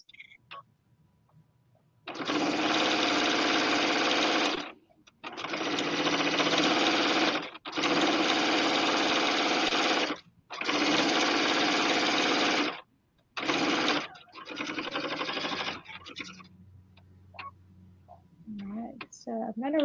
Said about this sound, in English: So I'll lower my presser foot, knead it down, reverse stitch at the start